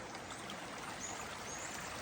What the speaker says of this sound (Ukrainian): Ну і тут, виходить, річка.